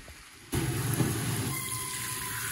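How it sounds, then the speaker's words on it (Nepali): Water is poured into a hot frying pan of cooking fish. After a quiet moment it erupts into a loud, continuous hissing rush that stays strong to the end. "योमा पानी लगाउँछु"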